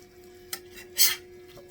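A spatula scrapes and flips food on a metal pan at a diner, giving a short tap, then one louder scraping swipe near the middle, with faint clinks of cookware around it and no talk.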